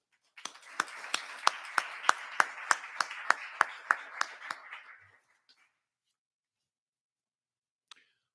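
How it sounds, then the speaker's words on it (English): Audience applause for award recipients at a military academy faculty ceremony: a rhythmic run of about a dozen sharp, evenly spaced claps over a softer clapping bed for roughly five seconds, then quiet with one faint late clap. "Please join me in a round of applause for the Scott Clark Award recipients."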